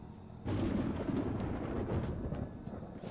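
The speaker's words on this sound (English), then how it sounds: "It sounds like it's going to rain." Thunder in a Persona game: a sudden deep rumbling roll that swells in and keeps grumbling low and heavy for several seconds, with no voices over it.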